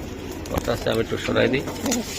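Club-raced racing pigeons coo on a pigeon farm, their throaty calls rising and falling in several bursts, close by and mixed with background murmur and what sounds like human voices.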